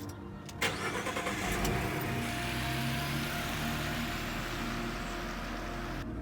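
A four-wheel drive vehicle out on off-road trails: its engine starts, then settles into a steady, close, continuous mid-pitched rumble that cuts off abruptly near the end.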